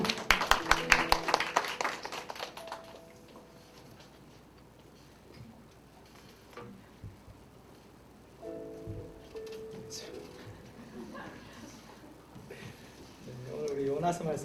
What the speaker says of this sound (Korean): 최 목사님께 큰 박수를 한번